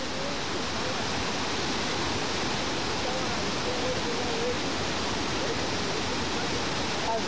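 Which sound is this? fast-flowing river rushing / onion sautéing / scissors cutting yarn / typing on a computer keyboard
fast-flowing river rushing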